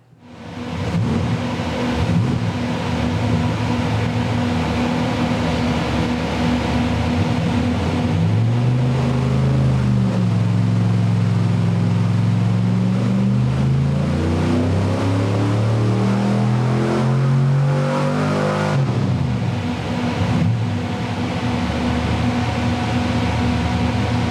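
A 383 cubic inch small block Chevy V8 runs on a dyno with a loud, steady roar. It climbs through a rising rev sweep in the middle, then drops back, and the sound stays continuous and close with no voices.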